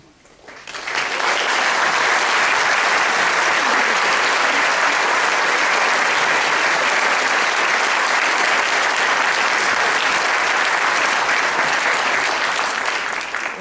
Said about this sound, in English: will our faculty please rise for a brief round of applause.